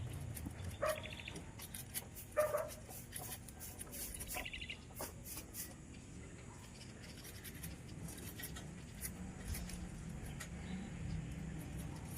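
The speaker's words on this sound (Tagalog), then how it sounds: "Ang creepy naman ng mga aso ng kapitbahay niyo." Neighbours' dogs bark faintly in the distance, a few scattered yelps spread over several seconds, under a low outdoor hum of passing cars and occasional bird chirps.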